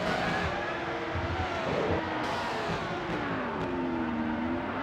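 A Formula 1 race car in F1 World Grand Prix drones close and loud, its engine note dipping and rising through gear changes in a steady, unbroken whine.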